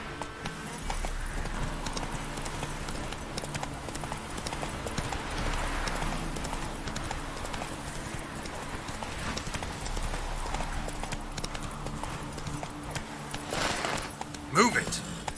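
Horse hooves clip-clop in a steady galloping rhythm throughout, with game ambience beneath, on the rider's horse in The Witcher 3 video game; a brief whinny-like cry near the end, with speech present.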